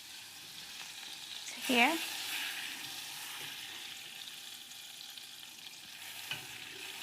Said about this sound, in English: So butter in the pan.